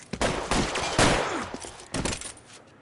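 Rapid gunfire bursts in a police video game firefight, loud and close, with clustered shots and a sustained volley near the middle trailing into sparser reports.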